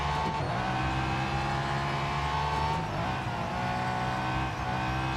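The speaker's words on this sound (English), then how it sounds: "Listen to that engine." A race car engine in the Real Racing 3 mobile game roars loudly and steadily throughout, with a sustained high-revving drone that dips briefly mid-run. No voices are heard.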